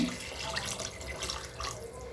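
Water pours steadily into a pot of soaked rice and lentils for Kongu-style arisi paruppu sadam, a continuous close splashing stream with no talk.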